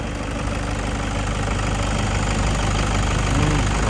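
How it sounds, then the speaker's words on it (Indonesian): A Toyota Fortuner diesel engine runs steadily close by, a dense continuous rumble with a knocking idle character, loud and unbroken without any talk. "Suara diesel itu"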